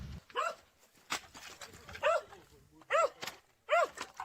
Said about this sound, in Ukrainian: купа голодних безпритульних собак